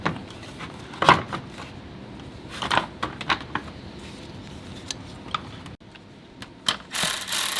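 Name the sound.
ratchet tightening 10 mm bolts on Subaru WRX airbox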